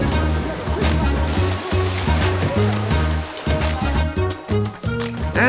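Baby elephants splashing in water, a steady churn of sloshing and splashing with repeated surges, close and fairly loud.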